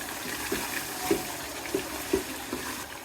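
Water poured into a pan of browned meat curry to make gravy, giving a steady, quiet, close pour with a few small splashes and no talking.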